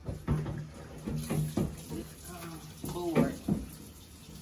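Tap water runs in a home kitchen sink while a cover is washed, the splashing coming in uneven surges at close range beside intermittent brief speech.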